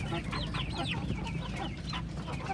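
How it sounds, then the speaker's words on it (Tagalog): Parawakan White chickens cluck and chatter continuously in a pen, several birds overlapping in close, steady calls with a low background rumble. "Ito na ating mga parawakan white sa kulungan na to."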